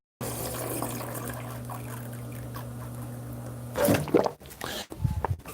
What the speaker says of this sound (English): Why are there not water fountains like this everywhere?